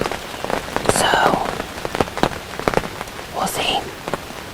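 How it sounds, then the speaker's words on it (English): Rain falls steadily on surfaces outdoors in Ohio, with scattered close drops and splashes over a constant patter, fairly loud and near. "We got some rain coming in."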